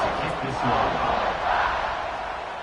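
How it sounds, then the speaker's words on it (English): A football stadium crowd roars in a loud, steady wash of cheering that swells and eases slightly, with voices mixed in. "this crowd is feeling themselves after that last drive"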